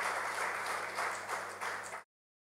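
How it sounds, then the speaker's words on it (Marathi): Applause from an audience at a public felicitation for a Padma Shri award recipient: dense, steady clapping lasting about two seconds, then stopping abruptly into silence. "माझी विनंती आपल्या सर्वांना आहे की जोरदार टाळ्या वाजवून गंगावणे साहेबांचं अभिनंदन करायला"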